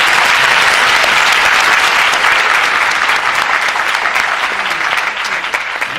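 An audience at an anniversary ceremony of a marketing company gives loud, dense applause that roars steadily from start to finish and eases slightly in the last second.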